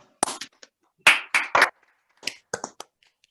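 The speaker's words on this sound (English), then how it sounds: "can we take this moment for those who can unmute to offer a round of applause?" A few online meeting participants clap over unmuted microphones, several short separate bursts of hand claps scattered unevenly with quiet gaps between them, close and thin rather than a full crowd.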